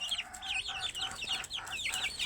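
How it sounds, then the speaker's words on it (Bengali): Chickens on a village farm cluck and chatter in quick, overlapping bursts after being let out, several birds close by calling steadily at moderate volume with no talking. "আমি এখন মুরগিটা ছেড়ে দেবো।"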